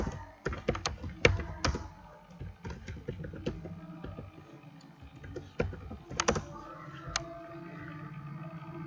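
Rapid keystrokes on a computer keyboard while text is entered in MS Word, irregular clicks and clacks in bursts with short pauses, close and clear, no talking.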